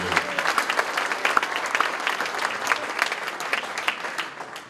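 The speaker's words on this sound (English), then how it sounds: "So I'd like a round of applause for those teachers" An audience at a school trades night gives a round of applause for teachers, a lively, crisp burst of many hands clapping throughout, fairly close and steady with a few sharper individual claps standing out.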